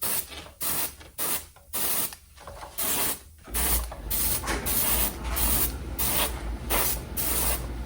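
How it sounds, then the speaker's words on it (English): Spray paint hisses from an aerosol can in several short bursts tested onto a piece of paper, then settles into a longer, steady spray during a toy Dinky Jaguar car repair. "I always check it on a piece of paper to make sure it's spraying first."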